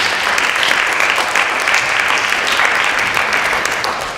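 Teen attendees at a distracted driving workshop break into applause, steady, loud clapping from a roomful of people lasting several seconds and fading slightly at the end.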